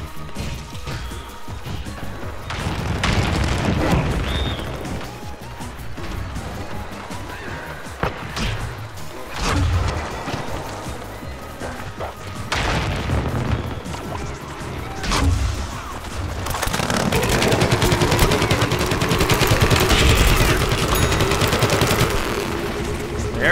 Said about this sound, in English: And I'm trying to take these guys out with my primary weapon